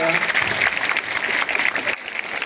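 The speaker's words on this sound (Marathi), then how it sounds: "टाळ्यांचा गजर करा टाळ्या वाजूया" An audience at a village school event claps in a dense, sustained burst that tapers off near the end, with a voice speaking over it.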